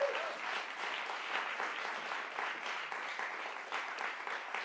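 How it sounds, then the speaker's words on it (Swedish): An audience gives warm applause at a music presentation, a dense steady wash of clapping hands that holds evenly for several seconds with no talk over it. "Varm applåd återigen tycker jag."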